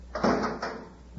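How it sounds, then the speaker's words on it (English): Door of a miniature spaceship shutting as a radio drama sound effect: a single close, hollow thump with a brief sliding rattle, followed by a faint small knock. "Shut the door and shove off."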